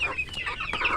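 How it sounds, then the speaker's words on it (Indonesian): Two-month-old farm chickens cluck steadily and close up, several birds overlapping in a busy continuous chatter with no voices over them. "Nah ini ayam kita. Usianya 2 bulan."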